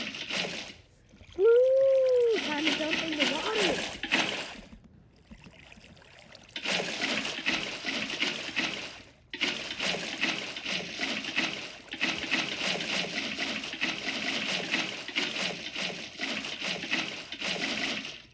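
Bursts of pouring, splashing water in Minecraft in several stretches separated by brief pauses, with a short tonal blip near the start.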